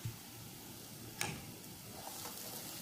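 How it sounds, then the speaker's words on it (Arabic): Onion sautéing in a couple of spoons of salted oil in a pan gives a faint, steady sizzle and crackle, with a few soft ticks of stirring. "وهنشوح البصلة"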